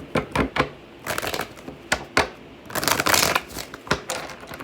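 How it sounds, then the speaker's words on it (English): A deck of cards is shuffled in several quick riffling bursts, crisp and close, with short pauses between them and no talking. "Two more shuffles."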